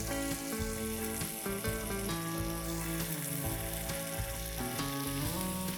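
Half a kilo of mutton keema fries in a pan with cooked peas, giving a loud, continuous sizzle with stirring scrapes throughout, alongside a steady tonal background.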